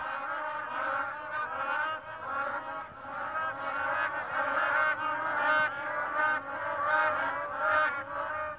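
Grey crowned cranes calling in Zakouma, Chad, a run of loud honking, goose-like calls repeating in uneven bursts, close by and with no voices.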